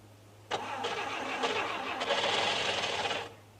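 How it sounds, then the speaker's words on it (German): A 1964 Fiat 1500 L engine is cold-started at minus 16 degrees. The starter churns in rapid bursts for about three seconds and then cuts off, moderately loud and close against a low steady hum. "Sie wissen ja, wie man einen kalten Motor richtig startet."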